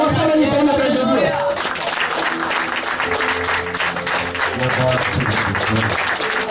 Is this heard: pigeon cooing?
no